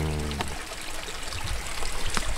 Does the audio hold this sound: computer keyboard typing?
no